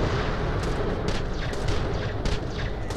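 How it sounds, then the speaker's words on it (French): Dense, continuous gunfire in the video game Borderlands: The Pre-Sequel, a loud, unbroken wall of shots and impacts that keeps up for the whole stretch. "Là, je lui tire en plein dessus."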